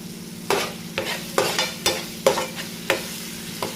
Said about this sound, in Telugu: టమాటా ఇంకా మగ్గలేదండి, ఇంకా కొంచెం మగ్గాలి.